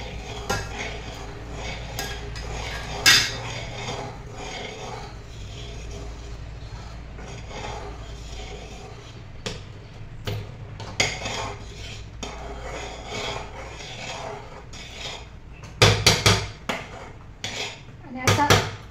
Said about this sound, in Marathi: एका हाताने चमच्यानं असं परतवतच राहायचं